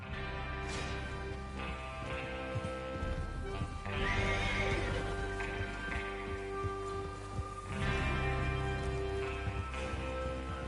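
Video game horses neigh and whinny several times over steady clip-clopping hooves, with a constant musical drone and rumble underneath.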